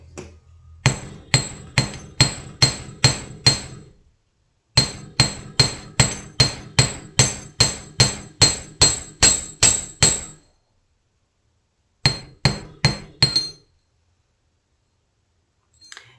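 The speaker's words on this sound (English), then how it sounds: "I'll hammer all this out next." Hammer striking wire-wrapped earring metal on a block, sharp metallic taps in quick even runs of about six to fourteen blows, separated by short silences, close and alone.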